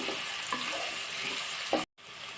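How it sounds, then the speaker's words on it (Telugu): Onion and green chilli stirred in a hot pan for lemon rice give a steady, close sizzle with light scraping strokes, broken by a brief gap near the end. "ఆనియన్, పచ్చిమిర్చి యాడ్ చేసాం కదా, మొత్తం అంతా ఒకసారి మిక్స్ చేసుకుని బాగా కలుపుకుందాం"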